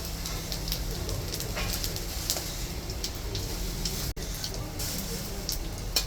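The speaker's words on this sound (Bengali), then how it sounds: "ফোড়ন দিলাম জিরা" Cumin seeds, dried chilli and bay leaf sizzling in hot oil for tempering, a steady, fine crackle with scattered sharp pops, moderately quiet and continuous, with a faint low background hum.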